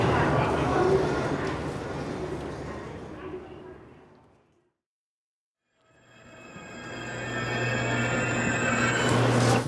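A train arriving at a station in Fukuoka, Japan, rumbles loudly at first, fades to silence, then returns with rising rumble and high squealing wheel tones toward the end.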